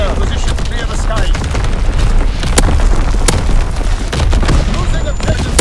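Artillery battery explosions in Call of Duty: WWII, repeated heavy booms and crackling blasts overlapping in a dense, loud barrage, with a couple of sharp cracks standing out and voices talking underneath.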